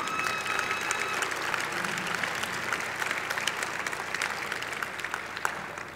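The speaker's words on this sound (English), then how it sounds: "Another round of applause for Talent Team" Gala audience applauding a finalist team at a 2020 chamber of commerce event, a steady, full round of clapping from a crowd, sustained evenly throughout.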